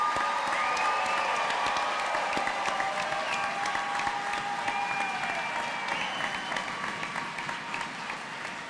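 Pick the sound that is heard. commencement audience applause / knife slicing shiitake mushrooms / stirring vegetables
commencement audience applause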